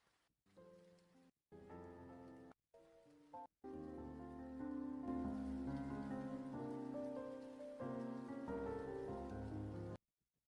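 A music track with a steady rain sound plays during a chill Minecraft modding stream; it starts in short choppy bursts, then runs continuously with soft melodic tones layered over the patter.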